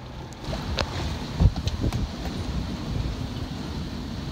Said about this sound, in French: Là, 25 nœuds de vent, on avance à quasi 6 nœuds.